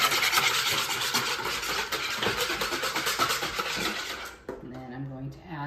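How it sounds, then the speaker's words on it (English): Two eggs are whisked in a bowl for bun dough, giving a close, fast, rhythmic scraping and clinking that stops near the end. "I've got my 2 eggs measured, and I'm going to whisk those first."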